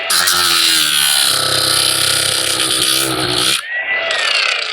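A cordless Harbor Freight power tool cutting through a piece, a loud, continuous high-pitched whine close by that holds steady, briefly cuts out near the end, then spins back up.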